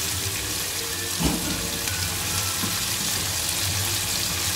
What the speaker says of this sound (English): we heat up the oil and we add the green paste